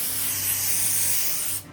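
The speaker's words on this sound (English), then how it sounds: "I got this atmosphere aerosol to kind of fill in the air." A can of atmosphere aerosol hisses in one steady continuous spray for about one and a half seconds, close and loud, then cuts off abruptly, on a film set.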